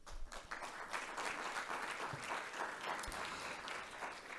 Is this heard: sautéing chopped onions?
no